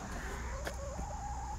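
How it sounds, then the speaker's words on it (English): Chickens cluck at an apple orchard, a close, brief run of clucks with a short rising call over faint background noise. "Oh, no, this is the chickens."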